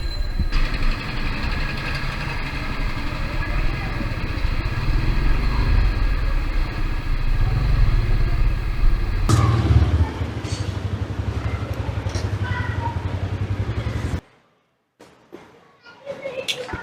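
A motorcycle rides through neighbourhood streets with a steady, loud engine and road rumble mixed with wind noise. It holds constant for most of the ride, then cuts out abruptly near the end, leaving a few brief knocks and rustles.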